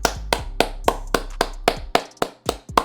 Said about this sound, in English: Can we get a round of applause for the one and only Big D, Brian Daboll?